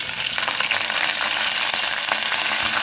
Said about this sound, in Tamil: வெங்காயம், நல்லா வதக்கி எடுத்துடலாம்